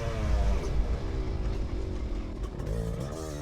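A 500cc two-stroke racing motorcycle roars past the finish line, a loud, continuous buzzing engine note that peaks early and then trails off slightly as the bike pulls away.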